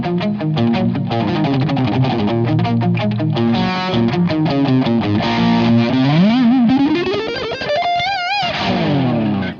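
An electric guitar plays through a Friedman Dirty Shirley Mini amplifier with a boosted, dry, distorted lead tone: fast picked runs, then sustained notes bent with wide vibrato, loud and close, with no talking.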